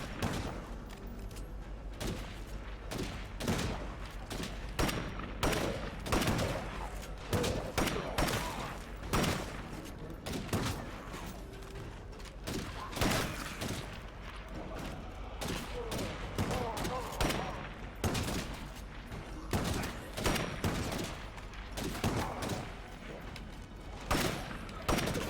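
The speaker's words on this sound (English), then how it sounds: "what are they shooting at?" Video game gunfire against zombies, a dense barrage of sharp, close shots in quick irregular volleys that keep going throughout at steady loudness, with occasional voices in the background.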